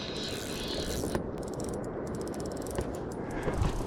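A fishing reel's drag ticks in a rapid ratcheting buzz as a northern pike pulls line on a walleye and pike season opener, steady and close throughout, with brief sharper clicks over open-air background noise.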